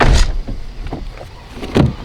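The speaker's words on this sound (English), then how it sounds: "Open the door for Ant." A car door is opened at night with a few close clunks and thuds, rising again sharply near the end, with no voices.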